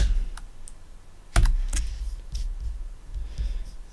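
A command is typed on a computer keyboard into a Kali Linux terminal, giving a close run of quick, uneven key clicks with one louder keystroke about a third of the way in.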